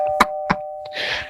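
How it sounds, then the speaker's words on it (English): Two quick bright doorbell dings ring out close by, followed by a softer tone and a breathy hiss, all clear with no voices. "I think my doorbell's ringing, Dean."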